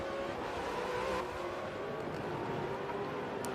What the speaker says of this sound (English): These supercars are absolutely gorgeous to watch and to listen to.